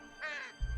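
A single short crow caw in the video game Mirador, clear and close against a faint background hum.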